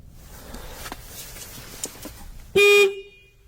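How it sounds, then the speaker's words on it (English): A van's horn blares once in a single loud, short honk of under a second, cutting through quiet background rustling and faint footsteps. "he suddenly hears loud honking coming from his van"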